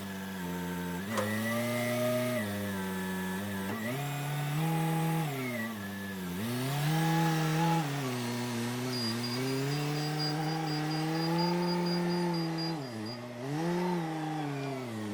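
A bandsaw mill blade cuts steadily through a huge crotch log lubricated with transmission fluid, its loud sustained motor whine rising and dipping in pitch as the cut proceeds, with a thin high whistle partway through.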